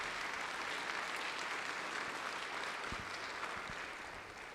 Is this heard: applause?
yes